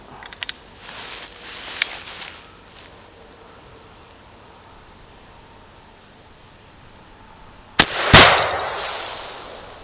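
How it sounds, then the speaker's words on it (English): A .58 caliber rifle firing a 440 grain solid bullet through thick brush outdoors gives one sharp, loud report late in the clip, preceded by faint clicks and quiet rustling. "We're going to shoot through the thickest part of the brush, see if we can't hit what we're aiming at."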